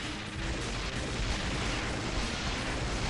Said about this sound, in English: Shit, I'm hearing fireworks now?